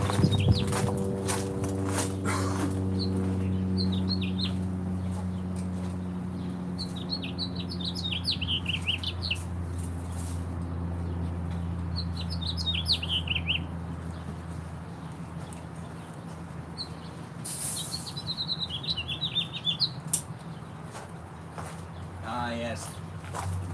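Birds chirp and tweet outdoors in short scattered bursts, fairly faint, over a steady low hum, with a few footstep-like knocks.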